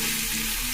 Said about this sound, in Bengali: পেঁয়াজ, টমেটো, কাঁচা লঙ্কা কুচিগুলো একসাথে ভালো করে ভেজে নিই।